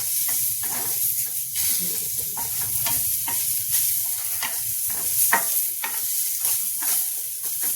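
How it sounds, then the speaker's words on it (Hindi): Onions frying in a small amount of oil in a pan, a steady close sizzle with repeated scraping strokes of a spoon stirring them at an irregular pace, no voices. "इस प्याज को भी हम लाइट ब्राउन भूनेंगे।"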